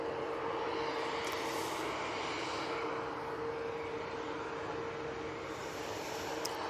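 An airliner in from Paris taxis across the road bridge at Manchester Airport, giving off a faint, distant, steady engine hum with a constant tone beneath a soft wash of noise.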